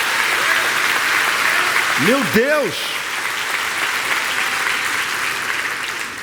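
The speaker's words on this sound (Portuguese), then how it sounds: "Dá uma salva de palmas aí." Church congregation applauding in a steady, dense wash of clapping that holds throughout, with a single voice briefly exclaiming over it midway.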